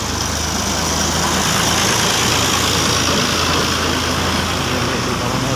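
A tractor's engine chugs steadily and loudly close by in a village street, a constant low rumble with broad noisy texture and no clear pull-away.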